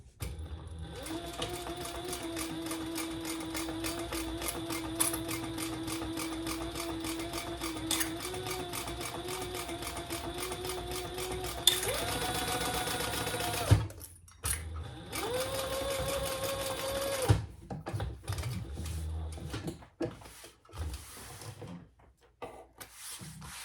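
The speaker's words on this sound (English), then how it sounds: "I'm going to do it from this side so I can go over my previous stitching." A sewing machine stitches a crossbody bag, running in long steady bursts with a rapid mechanical hum. It pauses briefly, resumes for a few seconds, then stops, leaving scattered handling clicks and rustles.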